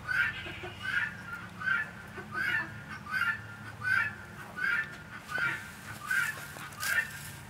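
Farmyard fowl on a small country property with chickens and two big roosters, a bird repeating a regular, pulsing clucking call about once per second, fairly close and clear, with faint background noise.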